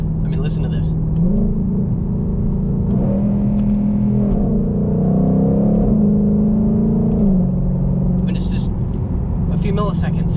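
A 2020 Ford GT500 Mustang accelerates hard, its loud engine rising in pitch and dropping with quick gear shifts, heard close from inside the car while people talk.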